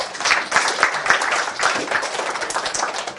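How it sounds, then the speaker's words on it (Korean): An audience in a lecture or workshop setting gives a short burst of steady, dense clapping that stays fairly loud throughout with no clear break. "박수 한번 쳐주세요."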